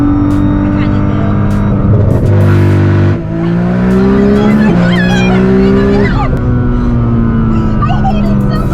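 A 1,300 whp Nissan GT-R with rolling anti-lag accelerates hard, its loud engine note climbing through the gears in steady sweeps, heard from inside the car over a constant heavy drone while people react.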